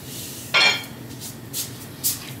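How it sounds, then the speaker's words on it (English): The lid of a crock pot cooking corned beef and cabbage is lifted off and set down with one clear clink, followed by two softer taps against a steady background hum. "Let me put this lid aside."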